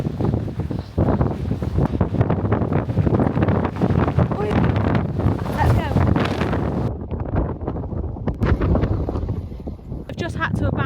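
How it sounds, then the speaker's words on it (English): Strong, gusting wind on an exposed mountain hike around Llyn y Fan Fawr in Wales, roaring and buffeting the microphone loudly and continuously, with the heavy rumble easing briefly before surging again. "the wind's just gone absolutely mental"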